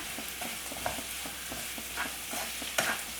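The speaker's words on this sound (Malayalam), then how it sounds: "സവാള ഒന്ന് വഴന്നു വരട്ടെ." Sliced onion with curry leaves and salt sautés in a pan, giving a low, even sizzle with regular scraping strokes of a spatula stirring through it.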